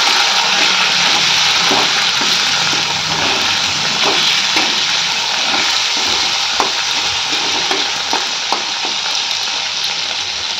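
Chopped tomato hits hot oil in a pan for a Bengali boal fish curry, making a loud, steady hiss of frying with faint scattered pops and clicks throughout.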